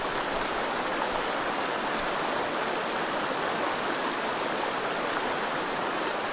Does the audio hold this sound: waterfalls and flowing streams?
yes